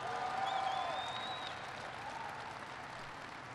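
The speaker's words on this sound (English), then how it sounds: "So give it, Kathleen, a big round of applause." Large audience applauding inside a huge Boeing factory building at a political speech, a faint, steady, distant wash of clapping with a few whistles on top.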